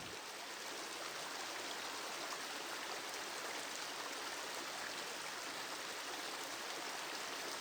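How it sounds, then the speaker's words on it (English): A cold-water stream in Pennsylvania's Nanticoke Creek watershed flows in an even, faint rushing wash with no breaks and no talk. "the stream that you see behind me is a cold water fishery"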